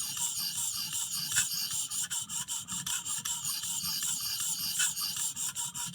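Steady rasping strokes of a blade worked against an abrasive sharpener, dressing the heel of a WE Banter pocket knife, close and continuous with a dense, scratchy texture and slight rhythmic pulsing.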